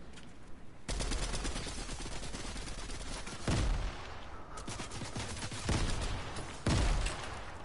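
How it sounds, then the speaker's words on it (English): Rapid bursts of gunfire from a Fortnite match, with several loud blasts fitting a grenade launcher punctuating continuous shooting over a busy, dense background. "My god, he has a grenade launcher."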